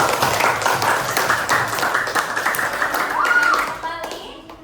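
Students in a religious studies class clap hands together, a dense, steady patter of many claps under children's voices, tapering off near the end.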